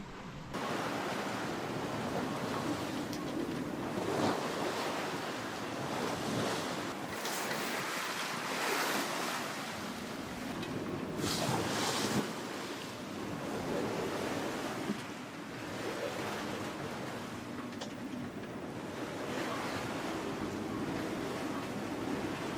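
Strong wind and surging ocean waves roar steadily around a sailboat crossing the Pacific at night, a continuous loud wash with wind buffeting the microphone and no voices.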